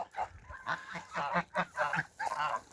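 Farmyard geese kept together with ducks honk in a rapid run of about eight loud, close calls with short gaps between them, during a misty morning feeding.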